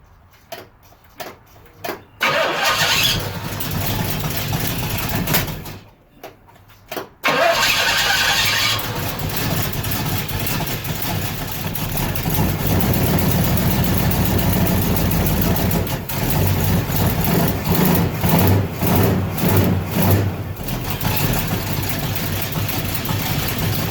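A 1970 Pontiac LeMans/GTO engine cranks with a few stuttering tries, catches, and settles into a loud, steady idle that continues throughout.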